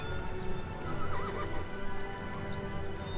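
A horse in the Battle for Middle-earth video game whinnies loudly, with clip-clopping hooves and a dense wash of battle noise and music behind it.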